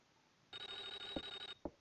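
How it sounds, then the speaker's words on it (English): A telephone rings in the SNES video game Clock Tower, one steady electronic ring lasting about a second, followed by a couple of short thuds, heard alone without talk. "There's the phone I heard."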